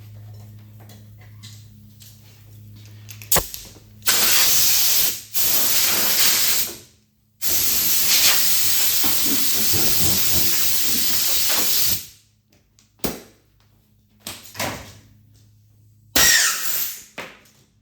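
Compressed air blasts sawdust out of a wooden arcade cabinet in several loud hissing bursts of varying length, separated by quiet gaps and faint handling clatter.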